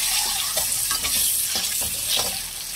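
Four eggs frying in a pan, a loud, continuous hissing sizzle close by, broken by a few scraping stir strokes.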